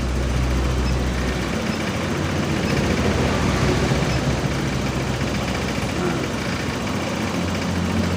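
A Honda motorcycle engine idles steadily while a diagnostic scanner reads its data, the bike suffering from sluggish, power-lacking running; a loud, unbroken mechanical drone with a fine, rapid pulse that stays constant throughout.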